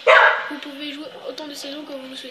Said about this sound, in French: c'est encore mon chien qui gueule